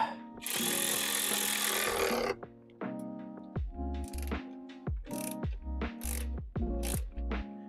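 Ratchet wrench clicking in quick bursts while snugging the fog light mounting bolts on a Ford Bronco Capable bumper, with a dense rasping stretch early on and then repeated short ratchet strokes, close and fairly loud.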